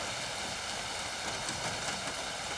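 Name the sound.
rain falling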